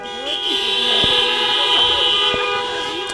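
Car horns honking at a community rally, several overlapping sustained toots of varying pitch continuing steadily, with a crowd and voices faintly underneath.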